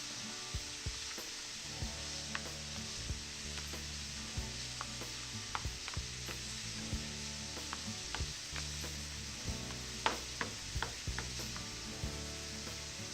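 Vegetables sizzle in a pan for a Mediterranean veggie sandwich, with a steady frying hiss and intermittent scraping stirs and clinks nearby.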